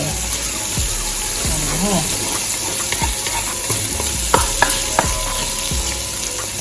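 Water is poured into a pan where garlic, ginger and thyme are frying, giving a steady loud sizzle with stirring scrapes and a few sharp clinks, and a voice speaks briefly over it.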